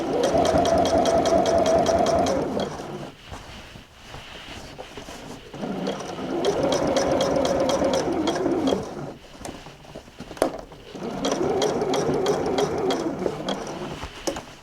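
A Juki sewing machine stitches a seam on thrifted denim jeans in three close, steady runs of rapid mechanical whirring, separated by short pauses.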